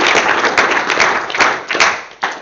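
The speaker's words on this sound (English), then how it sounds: "Please give a round of applause." Audience applause after a tech talk on SSH authentication with a certificate authority: a short, dense burst of clapping from a room of listeners, loud and close, with uneven claps accenting the wash and a brief trailing surge at the end.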